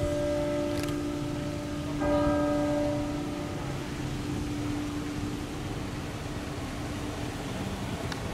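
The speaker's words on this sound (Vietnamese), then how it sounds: "Đây là cái tiếng chuông của đồng hồ nha." Clock tower bell on Phu Quoc strikes eleven o'clock, each loud resonant stroke ringing with long sustained tones over steady background hum, with no talking.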